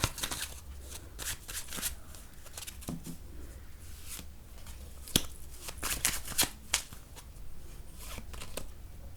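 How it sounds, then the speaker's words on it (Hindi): Tarot cards shuffled by hand in a quiet room, a steady run of crisp riffling and flicking bursts with a few sharper snaps, close and alone without talk. "कुछ और कार्ड्स लेते हैं यहाँ पे।"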